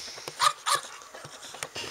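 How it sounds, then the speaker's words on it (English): A pet dog gives a series of short yips and whimpering barks, several quick bursts spaced across two seconds, close and fairly loud with no talking over them. "He's an awesome doggy."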